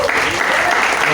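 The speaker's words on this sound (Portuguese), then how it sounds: "Vamos aplaudir ao Senhor." A church congregation bursts into brief, close, loud applause, the dense clapping filling the whole short moment without a break.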